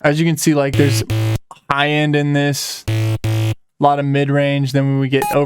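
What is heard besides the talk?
No everyday noise stands out behind the speech.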